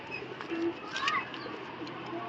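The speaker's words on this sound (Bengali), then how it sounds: "দ্বিতীয় কবুতরটা হচ্ছে এই যে" A pigeon bought at a market coos softly close by, with a low, brief coo over a steady background hum.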